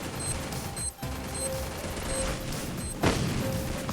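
Free Fire game gunfire pops against a busy background of electronic tones and rumble, with one louder burst near the end.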